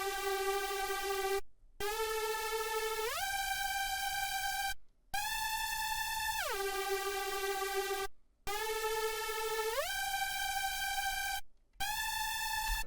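A bright Serum synth lead plays a repeating melodic phrase, each note stacked with rich harmonics and gliding upward, cut by short gaps of silence between four phrases, loud and alone.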